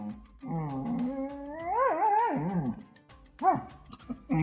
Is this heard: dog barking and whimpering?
yes